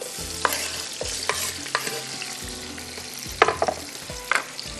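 Green chilies and tomatoes go into onions and garam masala frying in a pot for yakhni pulao, a loud sizzle broken by sharp scraping stirs and clanks of a spoon.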